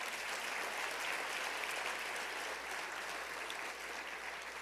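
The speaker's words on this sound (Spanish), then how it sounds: "Un aplauso al Señor." A church congregation claps together in sustained, dense applause that holds at an even level for several seconds, with no voices standing out.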